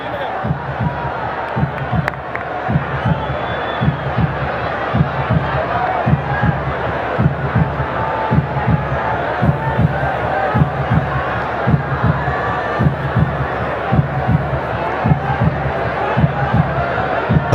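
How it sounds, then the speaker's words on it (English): A heartbeat sound effect booms over the public address at a tense cricket match, a steady, loud, low double thump repeating through the whole stretch beneath a noisy, murmuring crowd. "Heartbeat noise continues to ring out around the ground."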